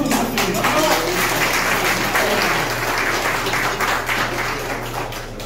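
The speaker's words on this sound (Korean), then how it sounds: "이 자리를 잘 눌러주고 계시는 우리 유승열 대표님께 큰 박수 한번 부탁드립니다." Audience applause at a forum's summer retreat at Daedunsan Natural Recreation Forest in Korea, a dense sustained clapping that stays strong and slowly eases toward the end, with a low steady hum underneath.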